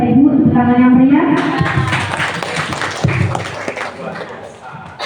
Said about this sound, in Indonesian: Sekali lagi Bapak Ibu, tepuk tangan yang meriah.